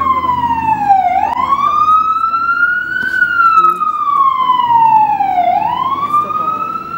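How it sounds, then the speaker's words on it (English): A wailing emergency siren rises and falls in long sweeps, loud and steady, with faint background rumble underneath. "Okay, let's let that siren go."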